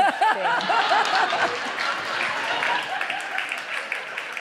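Audience applause and laughter at a live comedy show, a burst of clapping mixed with chuckles that fades gradually under scattered crowd noise.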